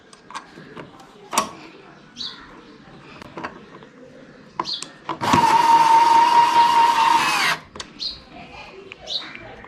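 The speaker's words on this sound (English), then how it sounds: "Now I will install this bolt." A bolt being installed with a power tool, one loud sustained whirring burst of about two seconds amid scattered clicks and taps, with voices talking around it.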